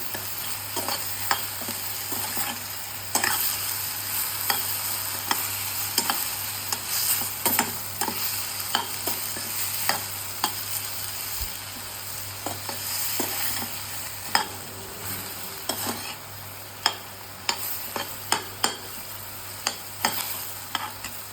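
Salt and turmeric being stirred into food in a pan for paneer butter masala, with soft repeated scraping clicks over a steady low sizzle, close and continuous with no talking.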